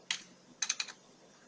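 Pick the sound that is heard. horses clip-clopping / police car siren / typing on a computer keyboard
typing on a computer keyboard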